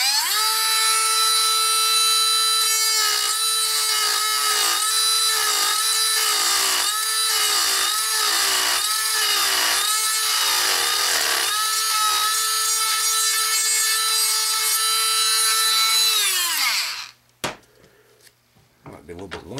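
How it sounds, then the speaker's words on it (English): A small rotary sanding drum works the inside of a wooden antenna part, a loud, steady high whine that wavers in rhythmic pulses as it bites the wood, then spins down and stops near the end. "Next, I think I'm going to take this small sanding drum and kind of clean up the inside here"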